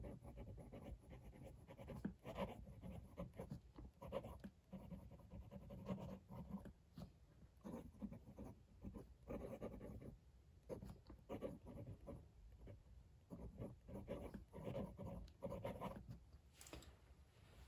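Soft, continuous scratchy rustle of a Pilot Custom 74 fountain pen nib moving across paper with slight feedback, close and quiet, with brief pauses between strokes.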